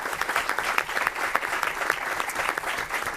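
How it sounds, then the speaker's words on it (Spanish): Dense, energetic audience applause at a conference, many hands clapping steadily and fairly close for about three seconds, with no voices standing out. "un aplauso por favor."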